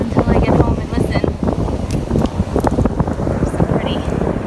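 Wind gusts buffet a microphone on a beach, producing loud, rumbling low-end bursts that come and go throughout.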